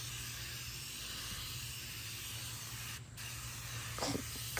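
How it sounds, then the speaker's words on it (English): Griot's Garage foaming tire cleaner sprayed onto a dirty car tire, a faint continuous hiss under low background hum, ending with a brief louder spurt. "covering of the tire with the foaming tire cleaner here"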